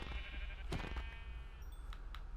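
A sheep bleats in Minecraft, a short wavering cry standing out near and clear over a low steady background hum, with a few faint clicks after it.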